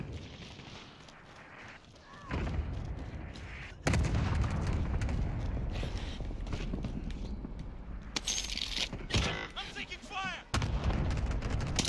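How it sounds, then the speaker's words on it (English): A cluster strike artillery barrage in a video game, heavy booming impacts and rumbling blasts that surge loudly after a quieter opening and keep pounding in waves, with people talking intermittently underneath. "Allied cluster strike arriving."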